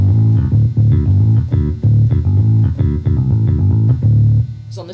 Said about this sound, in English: On the middle keyboard, the King Kronos, I use a bass sound.